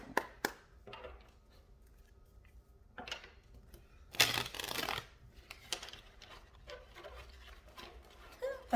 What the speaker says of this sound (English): That part wasn't a very particularly good shuffle.